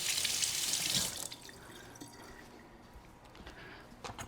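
Tap water runs over a cucumber being rinsed in a kitchen sink, a loud splashing rush for about a second that then drops to a faint trickle with a few soft drips.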